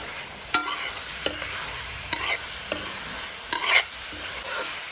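Food fries in a pan with a steady sizzle while a utensil scrapes and stirs in periodic strokes, each pass a sharp close scrape over the background hiss.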